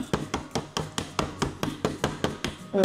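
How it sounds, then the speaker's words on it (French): Pliers used in place of a hammer knock on furniture parts while assembling bedside tables, giving about a dozen sharp, close, fairly regular taps in a steady rhythm with no talking. "on n'a pas de marteau, donc je suis en train de faire taper avec une pince"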